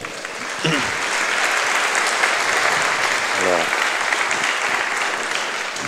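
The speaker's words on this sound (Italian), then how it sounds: "Grazie Luisella, un applauso." Audience applause after a conference talk on artificial intelligence and e-commerce, a steady burst of clapping that starts abruptly and carries on under brief voices.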